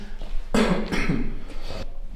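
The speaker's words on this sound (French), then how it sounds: "excusez-moi, j'ai toussé, du coup j'ai fait pas mal de bruit" A person coughs a few times indoors, a short burst of harsh, rough bursts with some throat-clearing quality, fairly close and moderately loud, with no talking.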